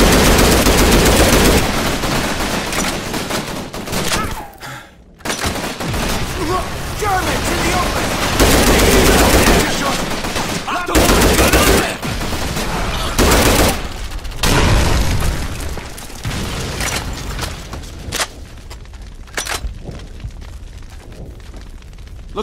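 Sustained battle gunfire in Call of Duty 3, dense rifle and machine-gun bursts rolling almost continuously with loud cracks and brief lulls, close and heavy throughout.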